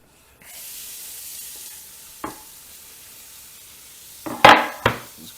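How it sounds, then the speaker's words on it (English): Onion softening in a hot wok, a soft steady sizzle running throughout, broken by a few sharp clatters of a utensil against the wok near the middle and end. "just gonna soften some onion"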